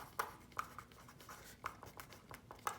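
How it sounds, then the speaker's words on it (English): Pen or pencil writing on paper for a math perimeter lesson, with short scratchy strokes and taps in an uneven rhythm, close and quiet, with no talking. "So let's go ahead and write,"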